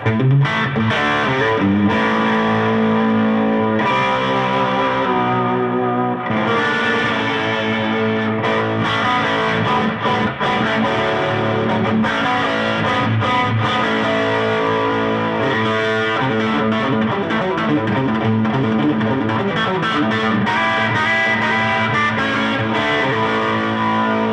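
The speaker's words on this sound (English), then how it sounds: "But if I use a little overdrive with this... There's the clean boost." Electric guitar through an overdrive pedal plays gritty, sustained chords continuously, thick and loud with a warm distorted edge throughout.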